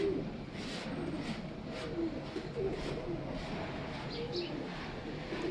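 Pigeons of a prized breed cooing softly on a rooftop loft, low repeated coos over a steady background hum, fairly faint and somewhat distant.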